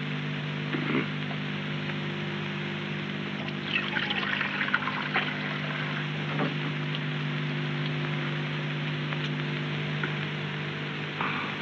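Water poured steadily from a vessel, probably into a cup, in a quiet room, a continuous close trickling rush lasting about twelve seconds with no talking.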